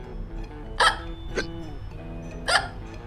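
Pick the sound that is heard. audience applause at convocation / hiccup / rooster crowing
hiccup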